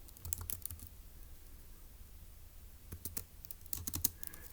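Someone types on a computer keyboard while solving a Turing Machine logic puzzle. There are two quick clusters of close, crisp key clicks with a quiet pause between them and no voices.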